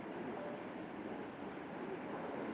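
Wind buffets the microphone on a seaside promenade in Yalta, a steady, loud rushing roar that fills the whole stretch with no voices over it.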